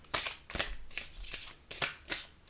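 Oracle cards are shuffled by hand in several quick riffling bursts with short pauses between them, close and crisp, and no talking.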